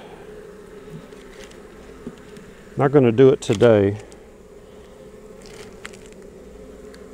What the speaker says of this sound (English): Just got our bees right here.